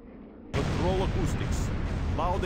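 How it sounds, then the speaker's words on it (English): A loud torpedo explosion in the submarine simulator Sub Command erupts suddenly into a sustained, heavy roar that stays loud to the end, with voices briefly heard over it. "Loud explosion on the bearing of Sierra."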